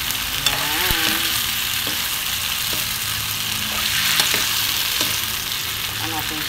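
Vegetables sizzle steadily in a hot pan beside frying tomato, with scraping stirs and light clinks of a utensil against the pan breaking through the dense, continuous frying hiss.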